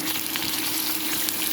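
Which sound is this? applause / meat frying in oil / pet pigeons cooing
meat frying in oil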